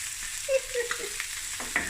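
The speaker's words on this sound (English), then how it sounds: "Now I'm going to add my ginger, my garlic" Ginger and garlic sizzle softly in a pan alongside lightly fried chicken, with a few quick scrapes and clinks of stirring against a quiet frying hiss.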